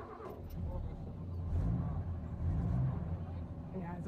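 A Toyota 4x4 engine runs with a low, rumbling drone that swells and eases across a few seconds, heard up close under a continuous noisy background.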